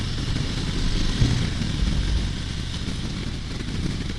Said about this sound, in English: this one does have quite a bit of a roar to it when you bring the RPM up